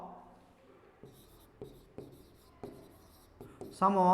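Marker or chalk strokes on a board during a Hindi-language 7th-grade math class, several short scratchy bursts spaced irregularly, with a teacher speaking softly between them.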